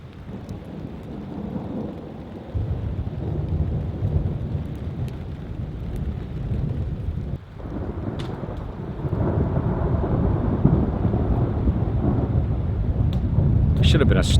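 Thunder rolls and rumbles through a nighttime thunderstorm over a solo hammock campsite, layered on steady rain, with louder booming swells in the second half and someone talking intermittently underneath.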